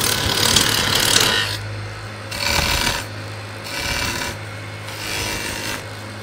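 A woodturning lathe tool takes heavy peeling cuts while shaping a wooden wine-bottle form, giving repeated bursts of rough scraping and shaving noise over a steady low motor hum, each cut lasting about a second with short pauses between.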